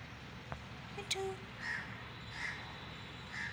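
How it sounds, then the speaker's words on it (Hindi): A crow caws three times at an even pace, sounding a little distant and fairly faint over a low background hum, with a brief click and a short tone just before. "ओए कौवा बोला, कौवा बोला।"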